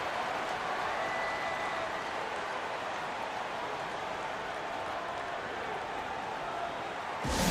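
Arena crowd applause in an NBA 2K24 basketball game between the Atlanta Hawks and Indiana Pacers, a dense, steady wash of clapping and cheering that holds at constant loudness throughout.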